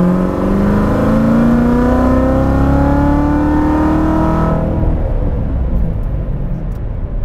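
A car with water methanol injection accelerates hard on a cool day, its engine note climbing steadily in pitch through the gear, loud and close, then shifting to a rougher lower roar after the change.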